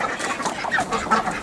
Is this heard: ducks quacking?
yes